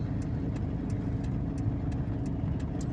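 A car coasting uphill in neutral on a road at about 30 km/h, with a steady low rumble of tyres and running noise, plus faint regular ticking repeating every third of a second.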